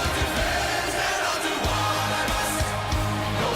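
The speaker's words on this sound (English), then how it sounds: "Crowd alive" Wrestling event crowd roars and cheers in a steady, loud wash of voices throughout, dense and close with no break.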